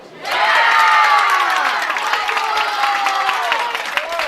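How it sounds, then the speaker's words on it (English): A crowd cheers and applauds loudly at a bowling match in a tournament bracket, a sustained roar of clapping and shouting that swells quickly and holds steady. "This crowd's believing."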